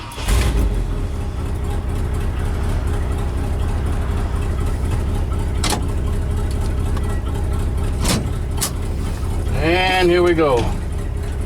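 A car engine with a freshly rebuilt Motorcraft 2100 carburetor idles steadily and loudly up close, a continuous low rumble throughout, with a brief spoken remark and a rising whine near the end.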